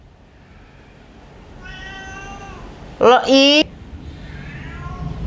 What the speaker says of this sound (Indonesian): ini kucing gua bacot banget